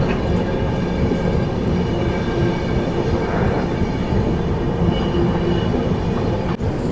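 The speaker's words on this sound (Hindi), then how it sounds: "शताब्दी जिस लाइन से गई है उसी लाइन पे अपनी ट्रेन अब चल रही है आगे" Kushinagar Express passenger train running on the rails at a steady pace, with a continuous loud rumble and rattle of wheels and carriages heard from on board, no talking.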